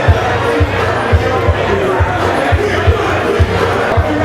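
A crowd at an outdoor boxing fight on Long Island cheers and shouts loudly and continuously, with a rhythmic thumping pulse running underneath.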